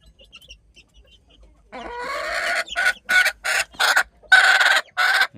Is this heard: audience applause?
no